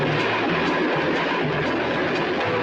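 A train arriving in a film scene gives a dense, continuous rumble and clatter of rail cars, loud and steady throughout with no talk.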